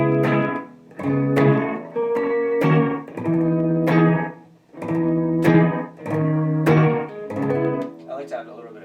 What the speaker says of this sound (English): So this is kind of like a shorter slapback.